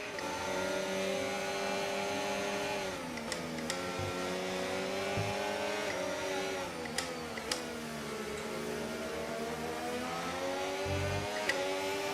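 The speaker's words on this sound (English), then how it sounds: "Nothing like the sound of an F1 car" A high-pitched Formula 1 race car engine in a racing video game whines steadily, its pitch sliding down and climbing back up through gear changes, with a few sharp clicks along the way.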